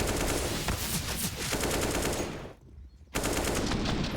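Rapid automatic gunfire from a Counter-Strike match on the Inferno map at an esports tournament, loud dense bursts filling the clip, a brief lull near the end before the shooting resumes.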